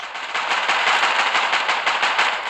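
Rapid automatic gunfire in a video game, a dense sustained burst of shots rattling continuously and loudly for the whole stretch with no talk over it.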